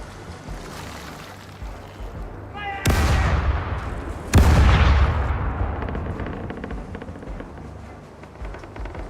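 Two heavy ship cannon volleys boom in the naval battle game Caribbean Legend, a few seconds apart, each a loud blast that rolls into a long fading rumble over ocean ambience.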